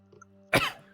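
A single short, sharp cough close to the microphone, preceded by faint background hum and a soft murmur.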